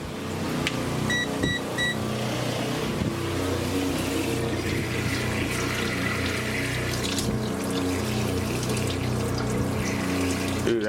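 Water runs steadily from a tap in an RV shower, a continuous broadband hiss and splash that lasts the whole stretch, with a faint low hum beneath it.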